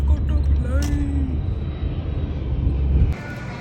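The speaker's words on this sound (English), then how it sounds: "Look at the plane." An airplane passes overhead with a steady, loud, broad roar and a low rumble that holds for several seconds before dropping off abruptly near the end.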